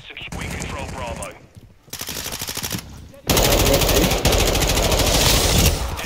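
Sustained automatic gunfire empties a magazine in Call of Duty: Modern Warfare 2 multiplayer, loud dense rattling bursts that break off briefly, then return as a long, heavy, continuous stream near the listener.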